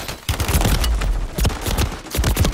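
Rapid gunfire crackles from a distant tunnel in a Call of Duty match, bursts of close, loud shots repeating in quick succession with no talking.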